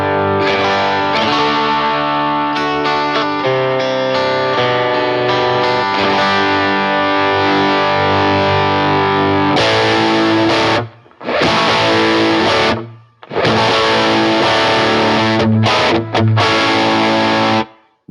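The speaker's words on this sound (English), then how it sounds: "Treble booster on the guitar." Electric guitar played through a treble booster into a ToneX rig, heard loud and continuous with distorted, chorused sustained chords and notes, broken by two brief drops near the end.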